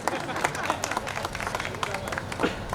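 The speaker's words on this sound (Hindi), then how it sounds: "आप ताली बजा सकते हैं, मैं वेट करूंगा।" An audience claps at a Hindi-Urdu poetry evening in Ahmedabad. A steady patter of hand claps runs throughout, mixed with murmuring voices.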